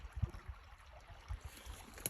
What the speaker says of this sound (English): The stream is called Svetlana's Creek